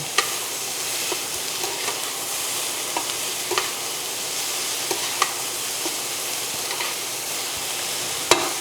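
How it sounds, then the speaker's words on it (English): Bell peppers sizzle steadily in a pan over high heat, a loud constant frying hiss broken by small pops and a few stirring clicks, with no voices. "I'm going to turn this heat up a little bit because I want to get a really nice char on my peppers as well"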